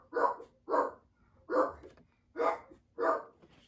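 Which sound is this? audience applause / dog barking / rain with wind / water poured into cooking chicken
dog barking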